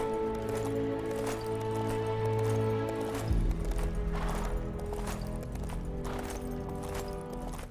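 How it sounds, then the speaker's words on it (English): Hooves clip-clop steadily as a horse is ridden through the futuristic 2099 setting of the LEGO Marvel Super Heroes 2 video game. A whinny is mixed in, and a low hum and game music run underneath. "We're riding a horse through 2099."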